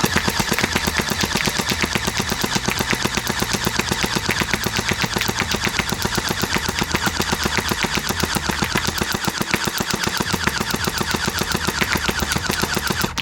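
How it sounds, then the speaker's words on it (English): Rapid, continuous volley from a SplatRBall SRB750 toy gel blaster shooting downrange, a dense steady rattle of shots close by and loud throughout, with no talking. "Now let's see how accurate this tiny little blaster is. Downrange, let's shoot."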